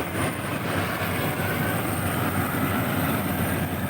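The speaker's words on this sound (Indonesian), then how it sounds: "Mesin kombi lewat, jadi agak suaranya kurang terdengar." A combine harvester rolling past in a rice field, a loud, dense continuous engine and machinery roar that fills the whole stretch without letup and masks everything else.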